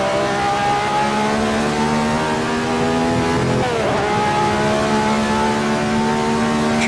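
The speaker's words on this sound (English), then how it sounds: "I'm really revving the engine out" The engine of an old 1967 Grand Prix car screams at high revs on the Monza short circuit in the Assetto Corsa racing game. The loud, steady tone dips briefly at a gear change, then climbs again.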